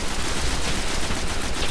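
Continuous gunfire in the video game Destiny fills the whole moment as a dense, loud wash of rapid shots with no pauses and no audible voices.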